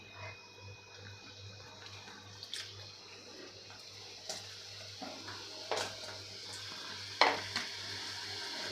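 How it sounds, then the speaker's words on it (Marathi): Namak pare (shankarpali) deep-fry in hot oil in a kadhai over a medium flame, giving a soft, steady sizzle broken by occasional sharper spatters and stirring clinks. "तर आता आपण हे तळून घेऊ तर इथे तेल गरम झालेलं आहे"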